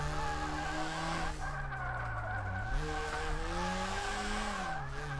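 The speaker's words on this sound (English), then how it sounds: "kind of drifting in this game" A Subaru BRZ drifting in the DRIFT21 racing game, its engine droning steadily with pitch shifts as revs rise and fall, under a continuous hiss of tire squeal, heard alone without any talk.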